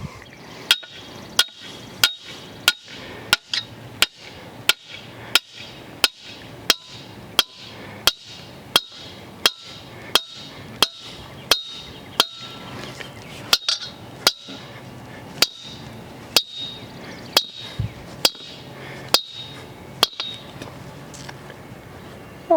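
A metal fence corner post for a solar electric fence being driven into the ground, with sharp ringing hammer strikes repeating at a steady, even pace for over twenty seconds.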